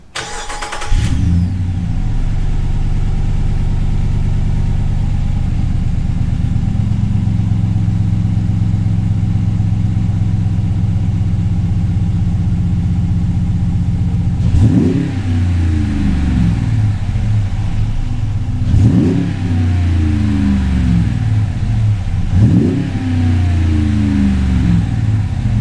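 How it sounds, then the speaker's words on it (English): Ram 1500 pickup with a 5.7 Hemi V8 and Borla Touring exhaust starts up, idles with a steady deep burble, then gives three sharp revs near the end, loud and close with no talk. "we'll see how it sounds on startup and a couple revs."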